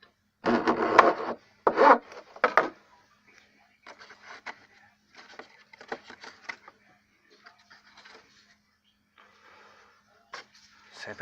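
Sandpaper rubbing across small wooden wing ribs makes soft, uneven scraping strokes, a few louder at the start and then faint, intermittent rubbing.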